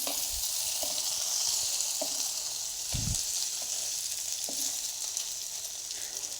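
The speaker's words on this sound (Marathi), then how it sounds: "भेंडी अशी हालून घ्यायची छान शिजली जाते ती" Stuffed okra sizzles steadily in a hot pan, with a few soft scraping stirs breaking through the continuous frying hiss.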